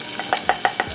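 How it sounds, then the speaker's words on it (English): Onions frying in a pan during a pan-seared salmon meal, heard as a soft sizzle broken by a steady series of short scraping stirs, close and moderately loud. "Then I'm going to add my onions"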